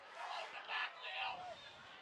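A high school varsity football crowd reacts in loud, swelling shouts, wanting a holding call, with voices rising and falling in waves.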